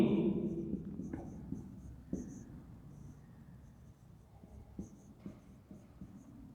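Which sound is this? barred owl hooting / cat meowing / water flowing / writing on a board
writing on a board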